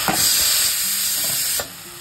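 Washed hadga flower greens dropped into a hot frying pan let out a loud, close, hissing sizzle that holds steady, with a brief clatter at the start and another near the end.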